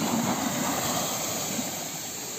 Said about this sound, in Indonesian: Ombaknya lumayan besar.